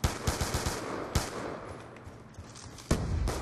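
Gunfire in a first-person shooter game, with rapid bursts of automatic fire and a few sharp single shots at moderate distance over a background of noisy battle ambience.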